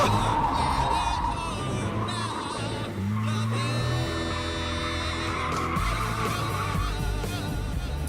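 An A86 car fitted with a water barrel drifts, its tires skidding and squealing in long, loud, sustained wails alongside a steady engine roar throughout.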